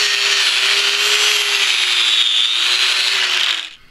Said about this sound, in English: Just using the sanding disc